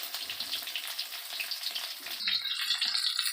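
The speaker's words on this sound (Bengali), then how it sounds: "লো আঁচে আস্তে আস্তে ভেজে নেবো ওগুলো।" Egg patties wrapped in bottle gourd leaves fry slowly on low heat, making a soft, steady close sizzle that turns brighter and more crackly toward the end.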